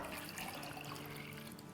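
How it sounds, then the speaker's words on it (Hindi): Water poured into a pressure cooker while making dal tadka, a soft steady splashing and gurgling stream heard close and fairly quiet, with no talking. "तो यहाँ मेरे पास 3 कप पानी है, वो डाल देते हैं।"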